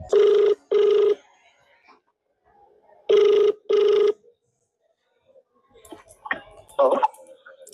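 An outgoing phone call rings back through a handset: two pairs of double rings, loud and clear with a pause between, followed by faint clicks and a voice answering.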